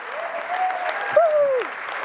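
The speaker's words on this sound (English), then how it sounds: "Give her a big round of applause." A conference audience applauds after a debate speech on AI in education, dense steady clapping filling the hall, with a voice briefly rising above it.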